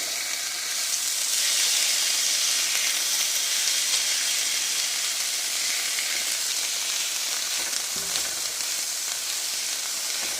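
Meat for a Philly cheese steak casserole fries in a pan with a dense, steady sizzle close by, hissing evenly for several seconds with a faint clunk near the end and no talking.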